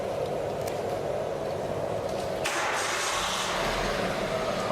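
A car engine already running loud and continuous, then a rough surge partway through as it revs or catches, steady and close with no speech.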